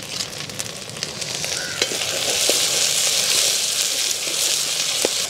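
Tomatoes frying with ginger garlic paste in a pan for crab masala, a steady loud sizzle that swells as they go in, with a few scattered pops and stirring clinks throughout.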